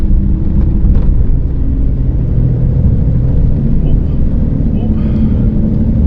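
A 1995 Isuzu Trooper pushes through soft sand, its engine and drivetrain a steady, loud low rumble with constant road-like roar throughout, no break or pause.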